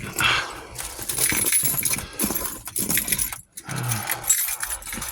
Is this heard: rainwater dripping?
no